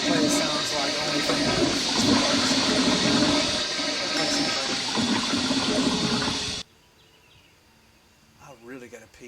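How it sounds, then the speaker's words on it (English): A dual flush toilet flushes with a loud, close rush of water lasting several seconds, then cuts off abruptly, followed by quiet room tone and a faint voice. "It actually did a dual flush."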